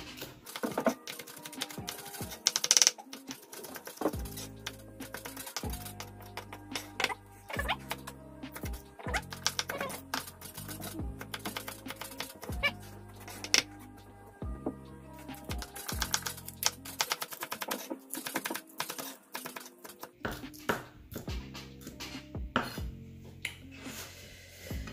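Rapid knife chopping of young onions on a cutting board, a long run of quick, even taps with brief pauses between bursts, close and fairly loud.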